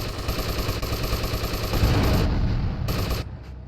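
Rapid gunfire in the GTA Vice City game, a steady close stream of shots rattling for about three seconds before cutting off, with a brief final burst near the end.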